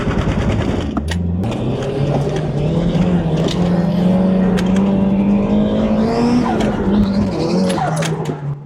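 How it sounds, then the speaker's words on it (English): A turbocharged race car from a 90s engine swap pulls hard, its engine note climbing steadily and close, then stepping down through a downshift near the end, with tire squeal threaded through. "Although more powerful, the nature of his turbocharged engine means he has to downshift to keep the revs up."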